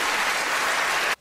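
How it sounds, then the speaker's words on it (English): An audience bursts into a dense, loud round of applause, steady clapping filling the whole stretch before cutting off abruptly at the end. "Another round of applause"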